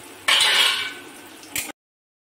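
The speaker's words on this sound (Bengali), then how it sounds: "এবারে কিশমিশটা দিয়ে দেবো" Raisins tip into hot oil in a pan after cashews were fried for pulao. A sudden loud sizzling hiss rises and fades over about a second, and a brief second burst follows.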